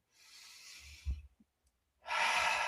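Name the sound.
one slow breath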